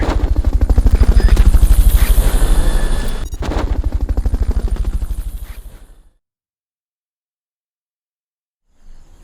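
A helicopter in Metal Gear Solid: Peace Walker beats with loud, rapid rotor thumps for several seconds, briefly dips, then fades out into silence before a faint return at the end.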